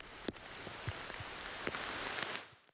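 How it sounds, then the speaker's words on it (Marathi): Heavy monsoon rain pours down in Khed, Ratnagiri, Konkan, a dense steady hiss with occasional louder drops hitting nearby surfaces, continuous and close before fading out at the end. "खेडमध्ये मुसळधार पाऊस पडतोय।"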